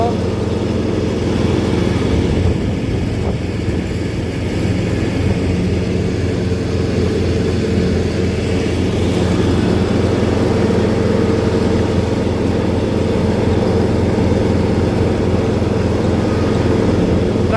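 Ride-on lawn tractor with a 16-horsepower engine and hydrostatic drive mowing a garden lawn, a continuous engine drone with steady low harmonics, loud and close throughout.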